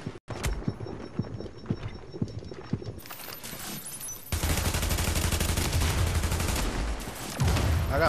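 Gunfire in The Division's Dark Zone, a run of sharp shots in the first seconds giving way to a dense, continuous barrage of rapid fire that grows louder toward the end.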